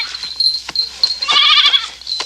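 A goat bleats close by in several loud, wavering calls, with brief pauses between them.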